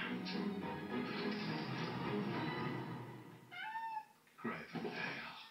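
Several cats meow over a busy, noisy bed of sound, with a clear drawn-out meow and further cries toward the end.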